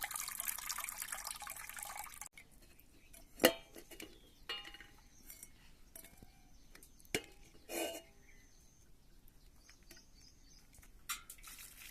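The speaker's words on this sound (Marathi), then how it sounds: "पाणी एक वेळेस काढून घ्यायचं आहे चांगलं धुवून" Rinse water is poured off washed cowpea beans in a home kitchen, a soft steady pour for the first two seconds, then faint scattered drips and small clinks in near silence.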